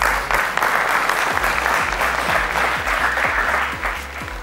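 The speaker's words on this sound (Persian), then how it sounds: "عرفان را خوب تشویق کنید." Studio audience applause on a Family Feud-style game show, loud steady clapping that fills the whole clip without pause.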